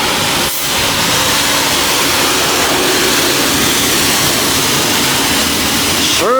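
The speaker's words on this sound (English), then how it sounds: "we'll move on to the high pressure rinse" A high-pressure rinse wand in a self-service manual car wash bay sprays hard and steady for several seconds, a loud close hissing roar that briefly drops at the start and cuts off near the end.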